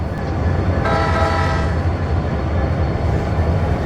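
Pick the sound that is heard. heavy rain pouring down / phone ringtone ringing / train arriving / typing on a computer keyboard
train arriving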